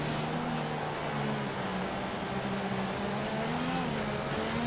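A dense pack of Formula 1 cars at the Hungarian Grand Prix in F1 2014 drones on steadily, with several high engine tones layered close together, loud and continuous for the whole stretch.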